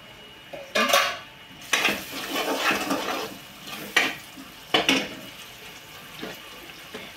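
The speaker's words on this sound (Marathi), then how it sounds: "इकडे फ्राय होत आहे." Frying and stirring food in an iron kadai while making giloy (gudvel) leaf bhaji, with several sharp metal scrapes and clatters of a spoon against the pan over a steady background.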